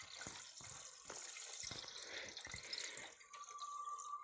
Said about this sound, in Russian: И теперь мы сливаем водицу.